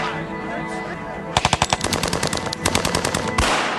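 Gunfire in an Italian TV drama about the Mafia: after a quiet, tense stretch, a rapid burst of automatic shots crackles out, followed by further irregular volleys and a final heavy blast.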